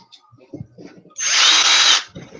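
A homemade Dremel-style rotary tool whirs to life for about a second in a loud, steady high-pitched whine, preceded by faint low background murmurs.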